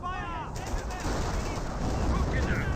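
An M2 mortar barrage in the Company of Heroes battle game lands amid a continuous, dense clatter of gunfire and explosions, steady and fairly loud throughout.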